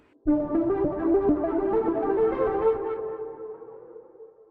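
A lead from an analog synth sound bank plays a short sustained melodic line with a few note changes. It is clear and fairly soft, fades out at the end, and no one speaks.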